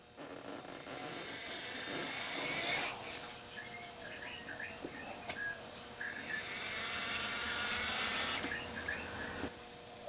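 A Tortoise switch machine on a model railway whirs softly as it pulls the cable on an incline hand brake, giving two long mechanical grinding runs with faint clicks and ticks between them. No one speaks over it.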